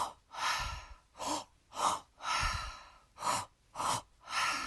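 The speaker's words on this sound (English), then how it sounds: "We're going to breathe about 30 more seconds." Deep breathing during a breathwork session for releasing anger: eight strong, close breaths in a steady rhythm, each a long airy rush, some with a low rumble, separated by short quiet gaps.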